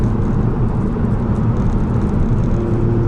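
Car with a manual transmission driving at steady speed, a loud, even low-pitched engine and road drone heard from inside the cabin, with a faint tonal hum near the end.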